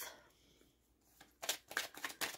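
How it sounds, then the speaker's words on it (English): Tarot cards are shuffled in a quick series of crisp riffling bursts, close up after a quiet moment, with no talking. "Shuffling for the Aries Collective."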